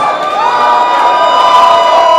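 A crowd at Sloppy Joe's bar in Key West cheers for the finalists of a Papa Hemingway lookalike contest, loud sustained shouting and whooping with high voices rising over the roar.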